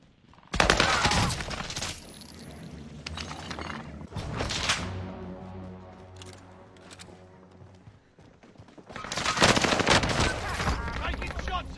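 Heavy automatic gunfire in a battle royale video game comes in loud sustained bursts at the start, middle and end, separated by quieter stretches of in-game sound and a steady tone.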